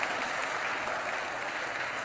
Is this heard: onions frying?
no